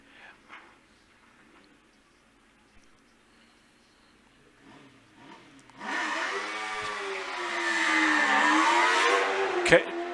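An Image race car built on a Formula Ford chassis launches at a hill climb course, its engine suddenly roaring loud and revving hard, rising and falling in pitch, after a quieter stretch with faint talk in the background.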